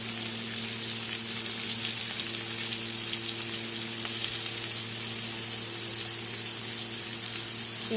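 Chopped onions fry in a pan for fish curry, giving a steady, close sizzle and crackle, with a constant low hum underneath and no voices.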